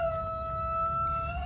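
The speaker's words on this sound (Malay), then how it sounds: "Tengok ada ayam jiran dia duduk mengais." A neighbour's chicken crowing in a Malaysian garden, heard as a couple of sustained tonal calls over a low outdoor hum with no talking.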